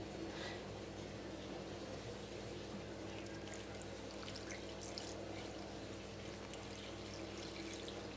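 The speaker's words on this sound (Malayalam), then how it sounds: "ഇനി ഇതിലേക്ക് നമ്മൾ ആവശ്യത്തിനുള്ള വെള്ളം ഒഴിച്ചു കൊടുക്കണം." Water poured gradually into porotta flour while preparing Kerala porotta dough, a steady soft trickling and splashing that runs continuously at low level against faint background hum, with no talking.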